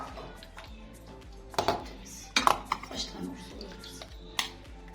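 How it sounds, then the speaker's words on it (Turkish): Plates and spoons set out in a home kitchen while making pasta, heard as a few scattered ceramic clinks and metallic taps against a low background hum. "Koymaya başladım arkadaşlar tabaklarımı"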